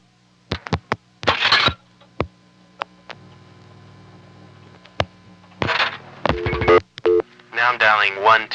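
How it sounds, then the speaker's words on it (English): Short tone and click bursts from dialing on an old crossbar-era telephone line come in an irregular sequence, with a faint steady line tone between them and someone talking in places. "Okay, now I'm dialing 1 in front of 752."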